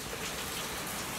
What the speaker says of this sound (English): it is raining hard out here